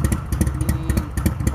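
A motorcycle engine runs close by in a rapid, pulsing idle with a repeated throbbing beat and some mechanical clatter. The sound is steady throughout, with no voices.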